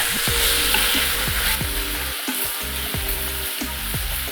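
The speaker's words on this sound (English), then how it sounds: "So while your meat's frying up" Beef sizzles steadily in a hot pan while browning for beef Burgundy, with repeated stirring scrapes every half second or so over a constant crackle and no talk.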